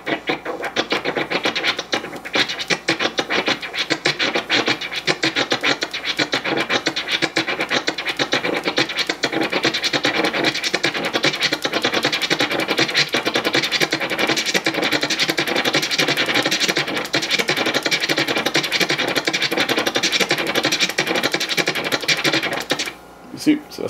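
A DJ scratches a snare drum sample on a turntable at a fast pace, producing a dense, continuous stream of rapid rasping cuts and clatter that runs for over twenty seconds with no pause.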